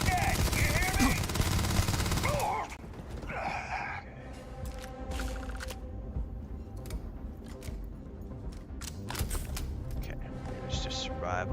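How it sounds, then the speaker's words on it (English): Sniper gunfire from the Starfield video game opens with a loud burst of heavy shooting. Scattered, sharp single cracks follow at irregular gaps over quieter background noise. "He's definitely taking pot shots at me."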